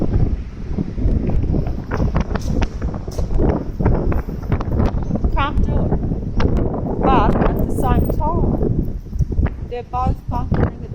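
Wind buffets an outdoor microphone in sunny, chilly weather, a steady rumbling roar that runs the whole time, with a voice talking over it intermittently.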